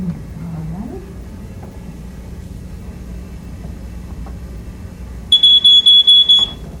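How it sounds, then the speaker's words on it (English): A home smoke detector being tested sounds a loud, piercing electronic alarm in a run of about six evenly spaced beeps after several seconds of quiet room tone. "Why don't you show me how you test your detector?"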